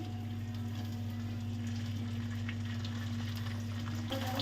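Ivy gourd frying in a pan, a steady sizzle and crackle with occasional scraping or stirring clicks, over a constant low hum, no talking.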